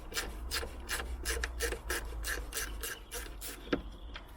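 Torx TX20 screws are driven out of a BMW E90 3 Series headlight, heard as a close, quiet run of short rhythmic rasping bursts, each turn a brief gritty scrape.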